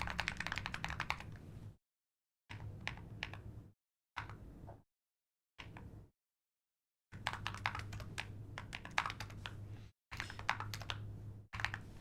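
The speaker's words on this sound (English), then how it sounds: "The keyboard sounds amazing" Rapid clicking of a computer keyboard in several bursts of typing separated by short silent pauses, close and fairly quiet, with a low steady hum beneath the keystrokes.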